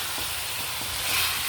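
Duck meat sautéing in its own rendered fat in a pan for a Filipino duck adobo dish, a steady close sizzle and crackle running throughout with no talking.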